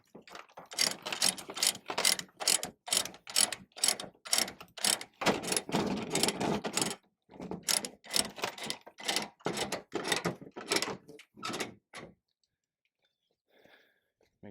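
Ratchet chain binder tightening a tie-down chain on a mini excavator loaded for transport: rapid, rhythmic metallic clicking in close, loud strokes for about twelve seconds, with a brief pause midway, then near silence.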